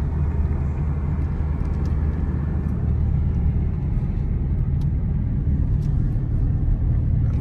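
Dodge Charger Scat Pack cruising through an upscale Charlotte, North Carolina neighborhood, its steady low engine rumble and road noise continuous and close throughout.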